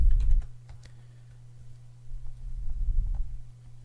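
Computer keyboard typing during a mathematics lecture on Lie groups, a quick burst of key clicks at the start, a pause, then a second run of steady, close keystrokes.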